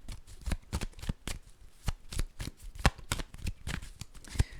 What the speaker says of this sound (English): So let's quickly pull a crystal card for you.